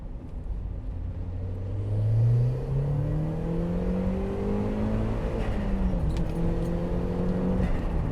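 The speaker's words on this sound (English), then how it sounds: "Cheeky little 2nd gear. I'm going to go back into low boost just so I can actually put the power down better." Turbocharged Mk1 Mazda MX-5 on low boost accelerating hard in wet conditions, engine note climbing steadily through the gear with a rising whine, loud and continuous, then dropping and climbing again after a shift.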